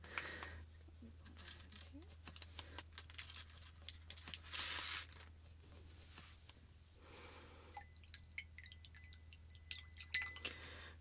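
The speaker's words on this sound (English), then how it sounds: "Rinsing off the brush." A face-paint brush is rinsed in water, making faint close drips, light swishes and small splashes at a low level, with a few sharper clicks toward the end.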